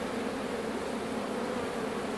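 Honey bees buzzing steadily during a single-brood hive inspection, a dense, close, continuous drone with no speech over it.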